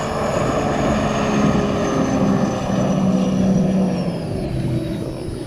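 Turbocharged Sea-Doo RXP-X jet ski fitted with a Stage 1 setup, its engine roaring loud and close in a sustained, steady drone with a faint whine riding over it, and no voices.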